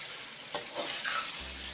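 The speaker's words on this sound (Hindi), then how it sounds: "चिकन को हम फ्राई कर लेंगे अच्छी तरह" Chicken pieces frying in a pan with golden-browned garlic, onion and ginger give a soft, steady sizzle with a few brief stirring scrapes, fairly quiet and with no one speaking.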